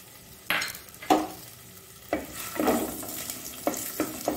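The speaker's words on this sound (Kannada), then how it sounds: "ಈ ಚಾಪ್ ಮಾಡಿದ ನೀರುಳ್ಳಿ ಇದರಲ್ಲಿ ಅರ್ಧದಷ್ಟನ್ನು ನಾನೀಗ ಹಾಕ್ಕೊಳ್ತಿದ್ದೇನೆ." Chopped onions dropped into hot oil for a Mangalore-style anchovy fish curry, giving a broadband sizzle with several stirring scrapes and bursts, close and moderately loud, no voices.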